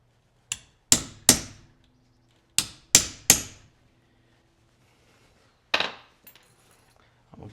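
Maul strikes on soft wood while working leather for a large-caliber cartridge belt: six sharp, close knocks in two quick groups of three, a single heavier blow after a pause, and faint light taps at the end.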